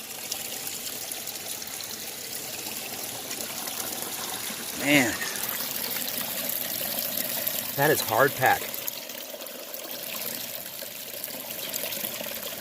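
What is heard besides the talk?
creek water flowing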